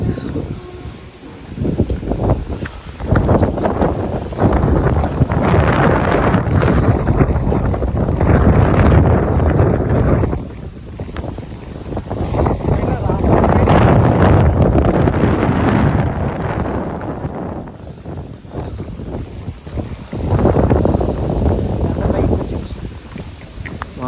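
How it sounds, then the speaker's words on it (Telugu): Strong wind roars in heavy, sustained gusts against the microphone, swelling and dropping in long waves over the whole stretch. "ఫుల్ గాలి."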